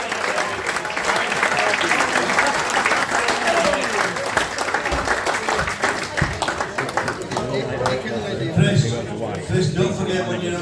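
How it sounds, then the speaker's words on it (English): Sustained audience applause at a club awards evening, loud and steady throughout with crowd noise and some voices mixed in. "would you give a big round of applause for Mr. Chris Humphreys and Dave Oliver?"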